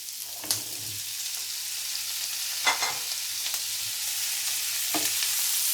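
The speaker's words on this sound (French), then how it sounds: "Je vais ajouter mes pois chiches." Chickpeas tipped into a pan of frying chorizo, giving a steady bright sizzle with a few louder scraping stirs spaced through it, close by and with no voices.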